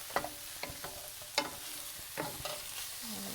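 Mushrooms stirred in a dark pan while frying, a few distinct scraping knocks of the utensil over a soft steady sizzle, close and fairly quiet, no talking.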